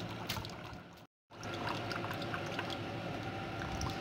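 Benne seeds being washed in water: a continuous sloshing and pouring sound, broken by one short silent gap, then steady swishing and trickling close by.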